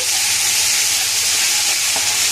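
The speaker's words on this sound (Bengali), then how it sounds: "আমি জিরে ফোড়ন দিচ্ছি" Cumin seeds sizzle in hot oil as a tempering for an onion-free katla fish curry, giving a continuous loud, close frying hiss with faint crackles throughout.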